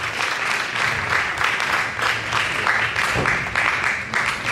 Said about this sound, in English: ladies and gentlemen, a round of applause. Let's welcome on stage Raindolf Owusu.